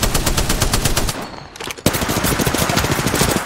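Rapid machine-gun fire from Apex Legends video game play rattles on in steady fast bursts, loud and close, with a brief pause in the middle before the shooting resumes.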